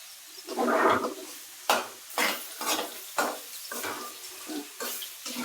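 Potato pieces fry in hot oil for sabudana khichdi, sizzling in repeated bursts as a spoon stirs and scrapes the pan, close and fairly loud, with no talking.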